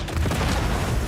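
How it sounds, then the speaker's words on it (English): A large explosive charge detonates in a film scene, a dense, sustained low rumbling boom filling the whole moment at steady loudness. "It's a rather large explosive, so I set a rather large fuse."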